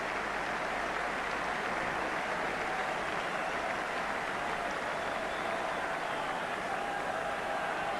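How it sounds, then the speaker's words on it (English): Crowd applause at a 1984 Wallabies versus England rugby match as a player leaves the field, a steady, dense wash of clapping and murmur from a large stadium crowd holding evenly throughout. "And a very generous round of applause for Brendan Moon"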